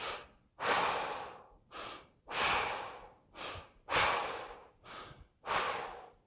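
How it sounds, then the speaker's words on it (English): Deliberate exhalations driven by the diaphragm during singer's breathing practice, several strong rhythmic breaths out alternating with shorter intakes, close and clear with no speech. "so when we breathe out, so we go"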